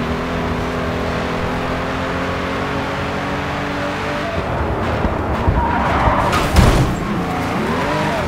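A car slides out of control during a race in the video game Grid 2, its engine droning loudly before the tyres break into a squealing skid midway through.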